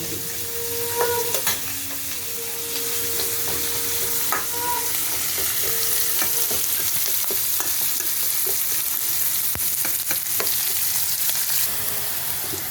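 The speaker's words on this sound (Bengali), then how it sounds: "পেঁয়াজটা লাল লাল করে ভাজা হয়ে গেছে" Onions fry in a pan until reddish, a steady crackling sizzle punctuated by scraping and clinking as a spoon stirs them repeatedly, close and continuous with no voices.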